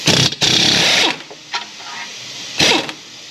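A power tool breaks loose the 21 mm caliper bolts on the front brakes of a 2017 Audi Q5. It gives a loud, harsh burst of about a second, a few faint clanks, then a shorter second burst, all close up.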